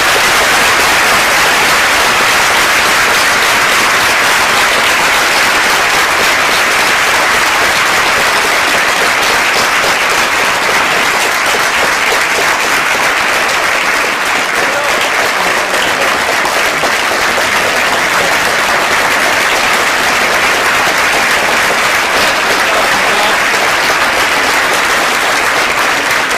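Sustained audience applause at a high school Veterans Day assembly honoring veterans, loud and steady for the full length with dense, even clapping throughout.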